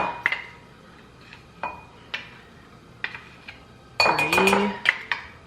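A tablespoon scoops paprika and taps against dishes, making a handful of sparse metallic clinks and ticks, followed by a louder cluster of clattering near the end.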